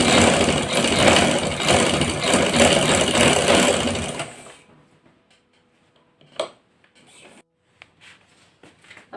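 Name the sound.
sewing machine stitching a trouser seam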